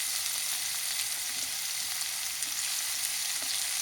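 Vegetable pieces and tomatoes frying in a pan, a steady, dense sizzle that holds evenly throughout, close and fairly quiet, with no talk.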